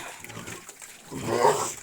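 Pigs on a farmyard grunt and snuffle at close range on an autumn morning, a low rough run of noises that swells louder toward the end, with no talk over them.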